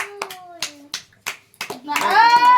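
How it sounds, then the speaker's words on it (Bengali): At a child's birthday party, about five crisp, uneven handclaps ring out near the microphone, alternating with a voice and a sustained sung or called tone toward the end. "এ নাও হাততালি"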